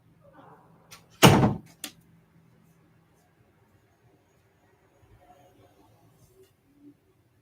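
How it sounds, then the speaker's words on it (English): A door is shut with one sharp, loud thud and a smaller knock just after, near the listener, followed by near silence with faint rustling. "Can you shut my door?"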